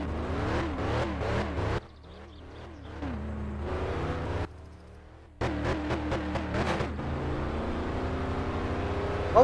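Dustman car in My Summer Car accelerating toward top speed, its engine revving up through repeated gear changes with brief drops between pulls, loud and close with no talking.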